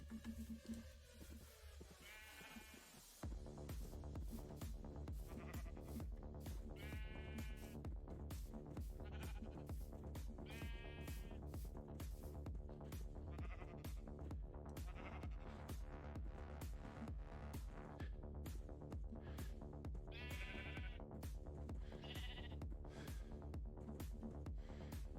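Video game sheep bleat several times, in wavering drawn-out cries spaced across a long stretch over steady, driving background music.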